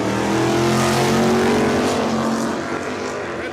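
A first-year orange Plymouth Barracuda and a classic 1967 Chevrolet Camaro at a drag strip, engines roaring loud and steady with layered harmonic tones, fading slightly as they pull away.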